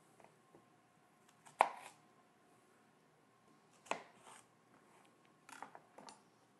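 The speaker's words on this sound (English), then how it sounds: "I'm going to do the same thing with the onion here. I'm just going to cut it into quarters." An onion cut into quarters with a knife on a board while preparing stuffing for a roast chicken: a few sharp, separate chops spaced seconds apart over a quiet background, no talking.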